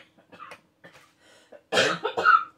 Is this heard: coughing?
yes